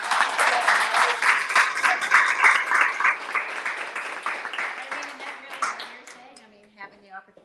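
An audience at a career and business talk applauds loudly and steadily, clapping fading out toward the end as a voice begins speaking over the dying claps.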